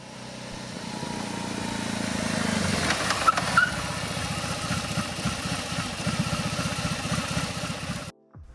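A BMW R18's air-cooled 1,802 cc two-cylinder boxer engine idles steadily, then settles into a deep, throbbing low rumble with rhythmic pulses, running continuously before cutting off abruptly near the end.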